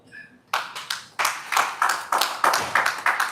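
A small audience at a live company wellness event claps in a sparse, uneven rhythm, about a dozen distinct nearby hand claps with no talking.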